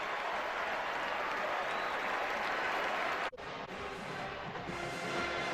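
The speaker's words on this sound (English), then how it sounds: "This place is awfully quiet, but now they applaud as Seastrunk's able to get up" A stadium crowd at a college football game applauds in a broad, steady wash that cuts off sharply, leaving quieter crowd murmur afterward.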